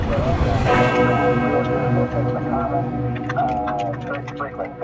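A bell rings with sustained, layered harmonic tones that decay slowly over several seconds, heard beneath radio-style chatter with people talking throughout.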